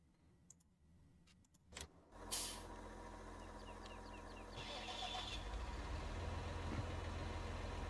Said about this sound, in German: ich höre doch hier einen Motor